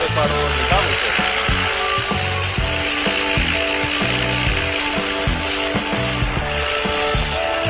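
A grinder strips thick white efflorescence from tiles at an outdoor water playground, making loud, continuous, rattling grinding noise with a rhythmic, clattering pulse. Faint voices may sit beneath it.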